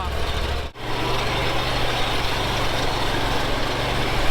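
A riding mower engine runs loud and close in a steady, rough roar, with one brief dip in the noise near the start and no clear pops standing out.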